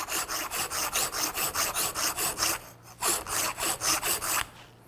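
Close, steady back-and-forth rasping of a file widening a drilled hole in 3/8-inch copper pipe, around sixteen even strokes in a quick rhythm, a brief pause, then more strokes before stopping.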